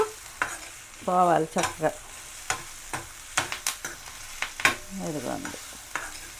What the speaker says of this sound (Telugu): మధ్య మధ్యలో ఇలా కలుపుకుంటూ చక్కగా దోరగా వేగాలి